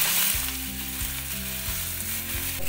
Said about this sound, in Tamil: எண்ணெய் கொஞ்சம் சூடானோன்னு இந்த பிரண்டைய நம்ம போட்டுறோம். இதை நல்லா வதக்கிடுங்க.